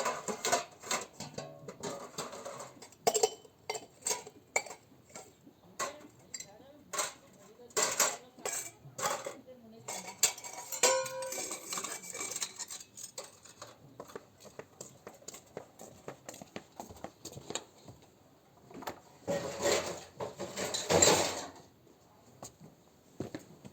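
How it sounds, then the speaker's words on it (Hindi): Dishes and metal utensils are put away in a home kitchen, with close, irregular clinks, clatters and scrapes coming in quick bursts and short pauses throughout. "उसके बाद मैंने सारे बर्तन रख दिए अपने किचन में।"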